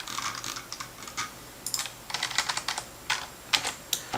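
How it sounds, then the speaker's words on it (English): Fingers tap out a SQL Server execute command on a computer keyboard in quick, uneven runs of keystrokes with short pauses between bursts. The clatter is close and clear, and no one talks. "You can type exec,"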